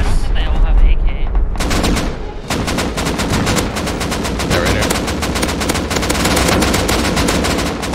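Rapid bursts of MP5 submachine gun fire in a large Rust firefight, dense and loud, with a heavier blast at the start giving way to sustained overlapping automatic shots.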